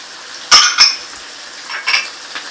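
Crushed coriander, cumin, red chili and salt frying in a pan, a soft sizzle under a few sharp clinks and scrapes of a stirring spoon, close by.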